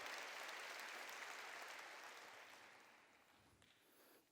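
A church congregation applauds at a Sunday service, broad clapping that fades out over a few seconds into near silence.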